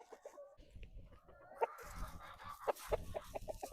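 Hens cluck softly in a garden plot, with several short, close calls scattered over a background of rustling and handling noise.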